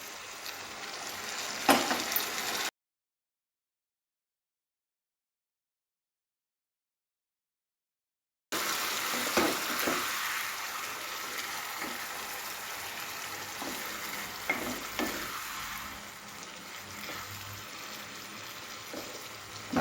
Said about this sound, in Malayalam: ഇതിലേക്ക് നമ്മൾ വിനാഗിരിയിൽ വറുത്ത് കോരിയ പച്ചമുളക് ഇടുക.